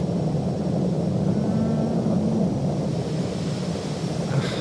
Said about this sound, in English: Throttling up our 6 General Electric J47 GE 25 turbojets